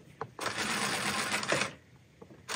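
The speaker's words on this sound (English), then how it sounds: "So now sew a little bit and you'll see it should stop in our needle up position." A Juki LZ 2280 B industrial zigzag sewing machine sews in one steady whirring run of just over a second, then stops, with a few faint clicks around it and no speech.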